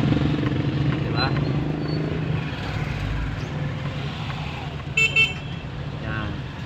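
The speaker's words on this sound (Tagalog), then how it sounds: "Yan. Yan yung traffic." Street traffic at a new traffic light in San Jose, Occidental Mindoro: a steady rumble of passing cars and motorcycles close by, with a short horn toot near the end, under someone talking.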